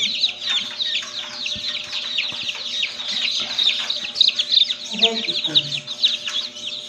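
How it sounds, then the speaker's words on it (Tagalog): Rhode Island Red chicks chirping constantly in a dense, high-pitched chorus, close and fairly loud, with a few lower clucks near the end and a steady electrical hum underneath. "Ayan, malulusog yung sisiw. Red Rhode Island chicken."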